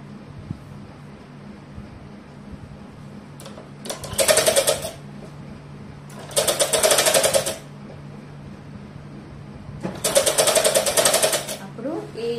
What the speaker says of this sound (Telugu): ఇంకో కుట్టు డబల్ కుట్టు అన్నట్టు డబల్ కుట్టేసుకుంటా ఫోల్డ్ చేసుకుంటా రావాలి.